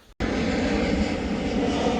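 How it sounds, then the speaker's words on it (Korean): A low-flying airplane passes over ripe barley fields near the coast at Oedo-dong Woldaecheon, Jeju. After a brief quiet moment, a loud, steady engine roar sets in and holds without a break. "비행기 한 대가 날아가고 있습니다"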